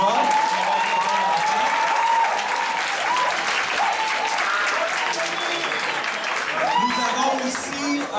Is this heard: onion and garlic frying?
no